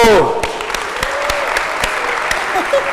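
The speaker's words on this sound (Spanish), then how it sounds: "¡Un aplauso!" Audience applause at a TEDx talk after a card-guessing trick, a short burst of clapping with a few sharp individual claps and a voice speaking over it.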